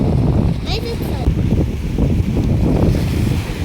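Winter sea waves at Abu Tlat beach in Alexandria roar in a dense, continuous wash of surf mixed with wind buffeting, close and loud, with faint voices in the background.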